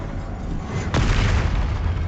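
An Expelliarmus spell is cast in Hogwarts Legacy: a sudden whooshing burst lands about a second in and swells into a sustained rumbling roar under dense game ambience.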